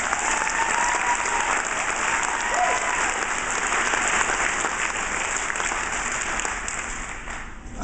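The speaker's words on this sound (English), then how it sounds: "And can we get a round of applause for the Weavers?" Sustained audience applause at a year-end farewell speech, dense and steady clapping from a sizable crowd that fades slightly near the end.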